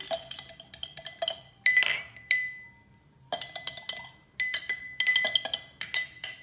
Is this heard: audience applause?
no